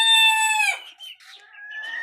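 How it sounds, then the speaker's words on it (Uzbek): A rooster offered for sale in Asaka, Andijan crows once, loud and close, in a bright drawn-out call followed by softer trailing clucks. "Akalar, xo'roz sotiladi."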